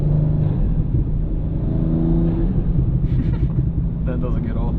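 A BMW M240i, G42 generation, with a tuned ECU, revs in a steady loud rumble with exhaust pops played through the speakers. Someone talks over it throughout.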